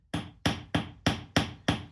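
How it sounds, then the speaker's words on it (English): Six sharp, evenly spaced hammer blows ring on an iron knife blade during hammer hardening, each a bright metallic strike with a short decaying ring, close and alone. "We're just delicately tapping away, reducing the material thickness as we go."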